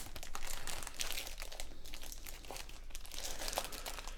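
PlayStation Classic console packaging crinkled and torn open, a dense, continuous plastic rustle and crackle held close for several seconds, with no voices.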